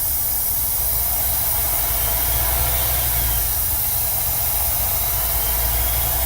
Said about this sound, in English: Now as you can hear that air leak when I'm steady losing pressure.